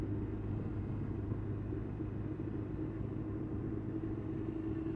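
A Kawasaki Z1000 motorcycle engine hums steadily as the bike is ridden along a forest track, a constant low rumble with some wind noise and no talking.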